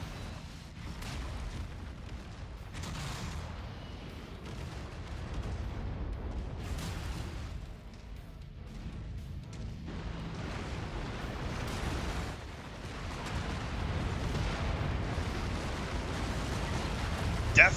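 Heavy, muffled booms from AC-20 autocannon burst fire in a mech combat video game, several deep blasts spread over a constant low rumble of battle noise.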